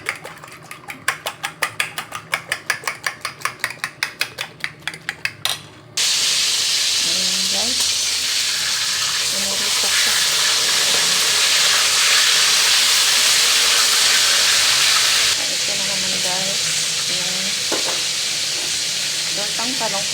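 Yellowfin fish and tortang talong, an eggplant omelette, fry in a pan with a loud, steady sizzle and hiss that follows a run of rapid rhythmic tapping. The sizzle stays close and continuous, with faint voices briefly underneath.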